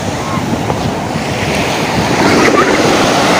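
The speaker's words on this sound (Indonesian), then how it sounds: "Lihat ombaknya tidak terlalu besar tapi warnanya biru kayak gitu guys" Ocean surf at Pandawa Beach in Bali rolls in as a loud, continuous wash of waves with steady wind noise, swelling slightly toward the end, with no voices.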